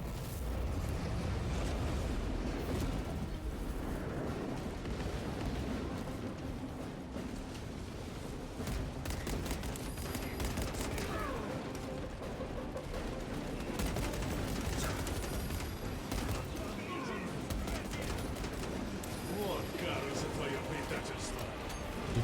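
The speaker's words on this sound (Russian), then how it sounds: "Все по мне стреляют, смотри." Gunfire aimed at the player in Warhammer 40,000: Space Marine 2, a dense ongoing volley of shots and blasts with someone talking over the din.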